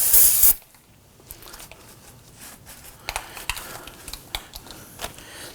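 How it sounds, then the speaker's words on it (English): Solvent sprayed from a can onto a rear wheel knuckle during a hub and bearing replacement on a 2005-2009 Subaru Legacy: a loud hissing burst at the start, then quieter scattered rubbing and tapping sounds. "I'm going to spray this down with some solvent."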